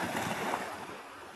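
Sea waves wash at a beach, a brief, steady roar of surf mixed with wind noise on the microphone, close and fairly loud with no talk.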